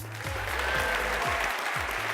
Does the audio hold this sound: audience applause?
yes